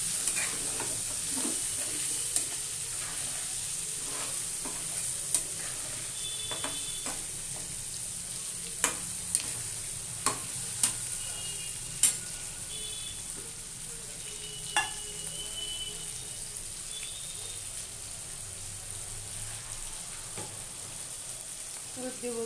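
Prawns sautéing in a pan with turmeric and cumin powder for a bottle gourd prawn curry, a steady soft sizzle with scattered clicks and scrapes of a spatula stirring throughout, close and moderately quiet.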